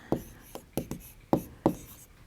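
Writing a fraction in words during a class 4 maths lesson, several distinct close taps and strokes of a pen or chalk spaced irregularly, with no talk.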